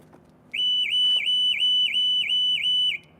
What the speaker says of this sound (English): Is Audi still using the siren for their panic alarm?